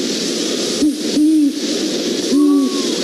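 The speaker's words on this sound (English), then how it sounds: "It's the call made by a great horned owl." A great horned owl hoots in three low, soft notes, a short one and then two longer ones with a pause between them, clear and fairly close, with no one talking.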